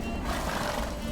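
Roach, the horse in The Witcher 3, lets out a short whinny that rises over a busy game backdrop, lasting about a second.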